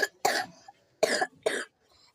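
A person coughs in a quiet room, four sharp close coughs in two pairs, with a short pause between them and a faint trailing breath at the end.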